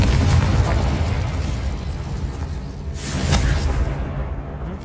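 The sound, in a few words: Confringo explosion spell in Hogwarts Legacy, a video game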